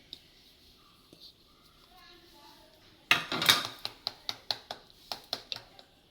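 Spoon scraping and clinking against a bowl while spices are stirred into yogurt, a quiet lead-in then a rapid rhythmic series of sharp metallic taps, close and clear.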